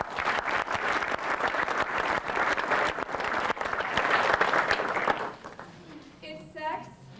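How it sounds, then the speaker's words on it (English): Audience applause at a university mock trial performance, a dense, sustained clapping of a full crowd for about five seconds, then fading out into quieter room sounds with a voice starting at the end. "Let's give them a warm round of applause."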